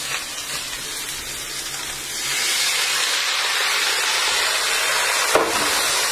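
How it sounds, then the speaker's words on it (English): Vegetables for tofu and sesame udon sizzle and steam in a hot pan just after water is added, a steady broadband hiss that swells louder partway through and holds, with a brief clack near the end. "you can just hear that sizzle. That's helping the vegetables steam"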